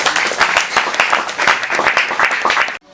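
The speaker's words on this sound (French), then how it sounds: "Acclamons." Crowd applauding at an Independence Day celebration, dense continuous clapping for about three seconds that stops abruptly.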